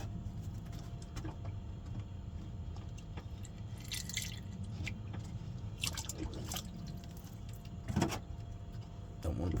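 Water poured into a container down in a boat's lazarette, heard as a few brief trickling splashes and drips over a steady low rumbling background.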